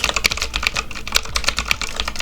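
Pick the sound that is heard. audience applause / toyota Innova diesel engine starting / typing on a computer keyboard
typing on a computer keyboard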